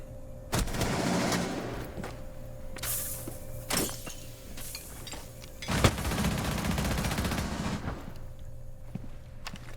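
A Rainbow Six Siege firefight that includes a headshot, heard as a few separate loud gunshot bursts and cracks spread across the clip over steady in-game background noise.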